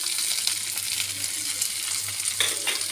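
Okra fries in a pan with salt, spices and turmeric, a bright, close sizzle with stirring scrapes, continuous for a few seconds without speech.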